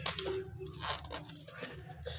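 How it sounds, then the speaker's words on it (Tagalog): Small Philippine peso coins clinking as they drop and are handled: a quick cluster of light metallic taps and jingles, close and fairly quiet, with no talking. "Ito na lang ang barya natin."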